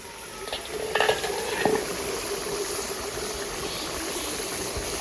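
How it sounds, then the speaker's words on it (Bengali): Small fish steamed with lemon leaves in a pan, stirred with a few soft scrapes over a low, steady sizzle, close and fairly quiet with no voices. "একটু নাড়া দিয়া কয়েকটা কাঁচা লঙ্কা, লেবু পাতা দিয়ে দিব।"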